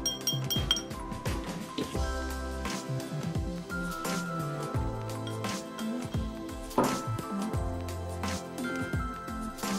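Glass container being handled on a hard surface while preparing battery acid work, with repeated bright clinks and knocks, some overlapping tones ringing briefly, close and fairly loud throughout.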